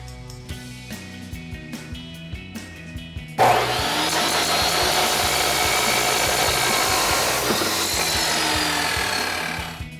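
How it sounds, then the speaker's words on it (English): Table saw cutting an MBRP exhaust pipe for a RAM 1500: light tapping and handling sounds, then the blade bites in with a sudden loud, sustained harsh metallic grinding that holds steadily before easing at the end. "now that we have over on table saw and clamped down, we can now make our cut"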